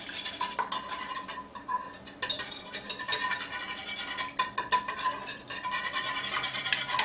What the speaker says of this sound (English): we are going to whisk the eggs and break up all of those yolks